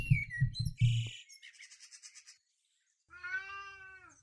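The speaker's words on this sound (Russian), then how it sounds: "Почему эти птицы мешают мне пройти?" In the video game Milo and the Magpies, magpies chirp and chatter at a cat in quick, bright calls, with short cat-like meows among them and a brief silent gap before a final rising call.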